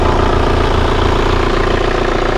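A Kia Carnival diesel engine idles with a steady, continuous low rumble and an even mechanical clatter, loud and close, with no talking.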